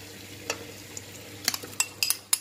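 Chicken and tomatoes fry in a pot for Constantine-style hsou soup while a utensil stirs, giving intermittent sharp clinks and scrapes over a soft background sizzle, with no talking.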